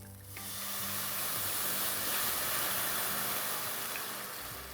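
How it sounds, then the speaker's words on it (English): Red wine poured into a hot pan with tomato paste for a tomato chipotle prune sauce gives a steady, loud broadband hiss and sizzle of steam that swells and holds for several seconds, with no talking. "now you want to deglaze with your red wine"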